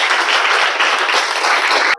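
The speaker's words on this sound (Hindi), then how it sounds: "गीता का स्वागत करेंगे तालियों से।" An audience claps to welcome a student to the front at a ceremony for newly appointed home guards, with loud, steady applause that stops abruptly at the end.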